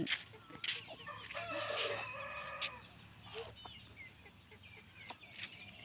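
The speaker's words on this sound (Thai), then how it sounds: "แม่ไก่ก็พาลูกไก่หากินอยู่ตรงนู้น" Chickens cluck and call in a busy farmyard as a hen leads her chicks foraging, with a rooster-like crow rising briefly among overlapping bird sounds and steady background noise.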